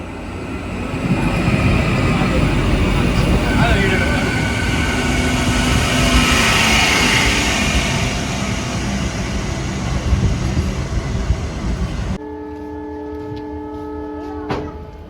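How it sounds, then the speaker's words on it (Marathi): An oncoming Chalisgaon–Dhule MEMU train rumbles past close by at a crossing for a long stretch, a loud steady roar of wheels and carriages that cuts off abruptly near the end. "क्रॉसिंगसाठी कारण समोरून येते आहे चाळीसगाव धुळे मेमू ट्रेन"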